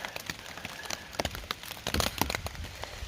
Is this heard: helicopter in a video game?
no